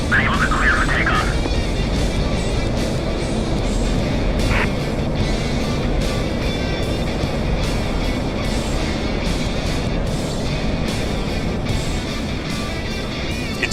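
An F-16 jet in the DCS flight simulator rolling down the runway for takeoff, a loud, steady roar of engine and rumble that fills the whole stretch with little change in level.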